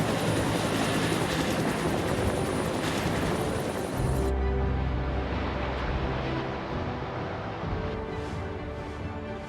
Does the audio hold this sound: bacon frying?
no